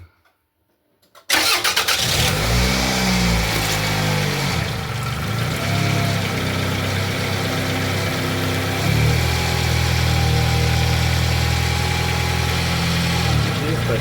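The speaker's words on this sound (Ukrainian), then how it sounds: "Запускай двигун." Brief silence, then a Toyota RAV4 engine cranks and catches, settling into a steady idle that grows slightly louder toward the end.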